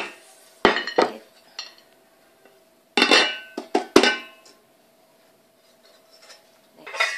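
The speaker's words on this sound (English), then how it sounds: "Grab a plate, then flip it." A plate grabbed and flipped over while turning out a gooey Nutella brownie from a rice cooker pot: a few sharp clinks and knocks of dishware in two short clusters, with quiet gaps between.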